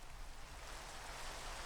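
Steady, faint rain falls in Minecraft on a skyblock build, a soft continuous hiss of drops with no voices over it.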